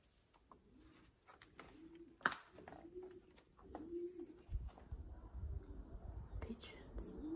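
Pigeons coo softly in a series of low, rounded, repeating calls, faint and somewhat distant, mixed with a whispering voice and scattered clicks and rustles.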